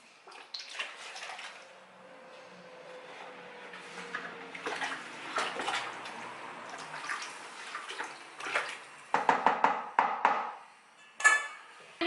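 Homebrew strawberry and watermelon wine is stirred in its vessel, a continuous watery swishing and sloshing close by, with a few knocks and splashes toward the end.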